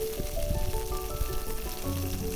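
Onion, curry leaves and dried chillies frying in tempering oil for a mushroom gravy, a close bubbling sizzle with soft crackles and a faint tonal hum underneath.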